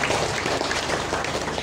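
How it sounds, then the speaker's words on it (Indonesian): Audience applause at a parish celebration honouring the parish priest, a dense steady clapping that fills the whole moment without a break. "Mari kita tepuk tangan untuk Bapak kita"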